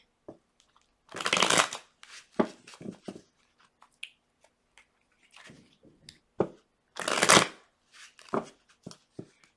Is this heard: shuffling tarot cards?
yes